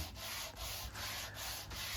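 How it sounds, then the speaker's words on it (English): A hardwood cabinet-handle piece is sanded flat by hand with rhythmic back-and-forth strokes, about five even passes, close and fairly quiet. "I'm sanding the part that will attach to the wood flat"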